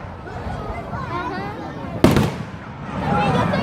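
Fireworks go off outdoors, with one sharp, loud burst midway that crackles and fades. Voices and crowd chatter run underneath throughout.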